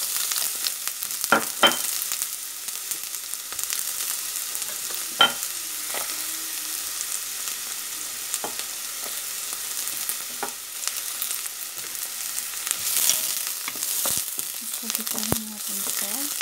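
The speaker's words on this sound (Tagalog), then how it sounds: "lalagay na natin ang ating sibuyas" Onions frying in a pan for Filipino chicken afritada, a steady close crackling sizzle with occasional sharp pops and stirring clinks, no talking.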